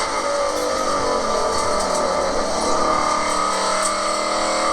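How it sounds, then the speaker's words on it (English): A car coasts into a corner on a driving run, giving a steady, continuous drone of engine and road noise with no sharp changes and no voices. "You can hear you coasting into that corner"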